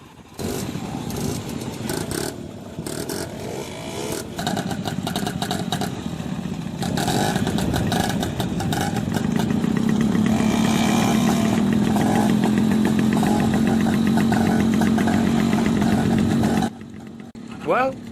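A group of large chopper motorcycles revs up close by, a loud, rasping engine roar that climbs into a sustained high-throttle drone midway, then cuts off abruptly near the end. Faint voices are mixed in.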